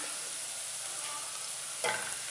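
Onion and garlic frying in a pan for a chicken meatball dish, a steady bright hiss of sizzling oil with a brief stirring scrape near the end, close and uninterrupted by speech.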